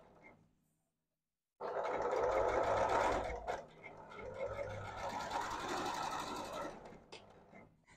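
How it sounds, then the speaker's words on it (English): A sewing machine runs steadily stitching down a sleeve seam at a quarter inch on an upcycled robe, starting abruptly after a quiet pause, with a brief dip mid-run before continuing and slowing at the end. "now I'm just going to continue sewing down my sleeve at a quarter of an inch"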